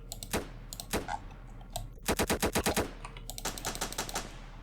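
Rapid bursts of gunfire from a Roblox Studio first-person shooter, sharp repeated cracks in short volleys with brief gaps, the longest run near the middle, close and fairly loud with no talking.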